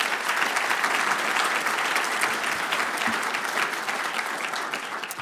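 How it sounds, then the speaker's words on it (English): Audience applause at a public forum in Aspen, a full, steady roar of many hands clapping that holds loud throughout and eases slightly toward the end. "He deserves our applause and our thanks."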